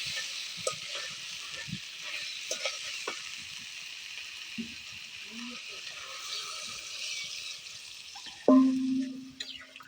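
Vegetable curry with potato sautés quietly in a pan, a soft hiss with scattered light scrapes and clinks, then a louder tonal clatter near the end.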